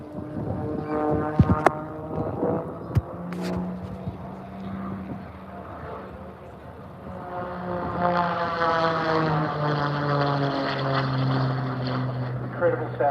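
A T-28 Trojan trainer at an airshow roars at full power, a loud piston-engine drone with a steady propeller buzz that shifts pitch as it passes, alone with no talk.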